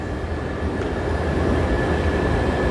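A REX regional airport express train passes in Berlin, a loud, continuous close-range rumble and rail roar with a steady high whine running throughout.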